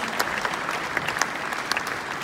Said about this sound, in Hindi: बस जोरदार तालियां हो जाए for the legendary artist himself.